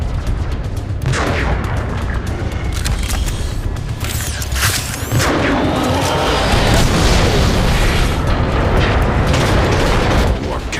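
Heavy booming cannon blasts and rapid gunfire-like bursts in Transformers: Fall of Cybertron crash over a dense, noisy background of continuous battle sounds, loud and close.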